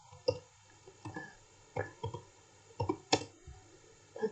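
Computer keyboard keys tapped in a quick irregular series of sharp plastic clicks, close and fairly quiet, with a steady faint hum beneath.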